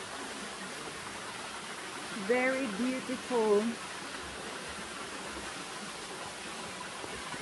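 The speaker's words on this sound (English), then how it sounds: "So behind me is the Menomeri waterfalls." Menomeri waterfall in Cyprus's Troodos Mountains gives a steady, broad rushing wash of falling water, continuous throughout, with someone briefly speaking over it near the middle.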